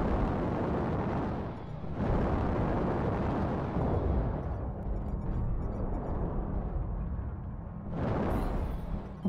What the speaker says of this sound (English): Target spotted. Artillery strike online.